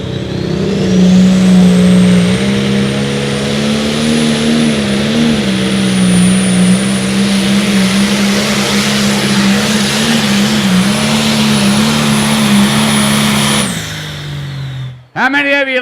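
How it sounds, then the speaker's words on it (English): Pro stock John Deere tractor at an outlaw tractor pull roaring at full throttle, a loud, sustained, heavy engine drone with a high whine above it for about fourteen seconds before cutting off abruptly. "you likes the looks of that John Deere tractor?"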